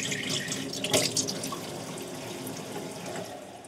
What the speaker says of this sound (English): what I like to do is I just put a little bit of lukewarm water